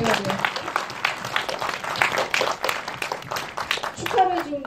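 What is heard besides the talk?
audience applause for two guests at film screening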